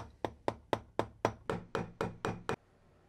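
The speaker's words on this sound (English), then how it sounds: "Just use the tip of a screwdriver and a mallet to lightly tap them in." A mallet lightly taps glazier points in with a screwdriver tip to hold the backing of a wooden picture frame, ten sharp, evenly spaced knocks close by, then quiet.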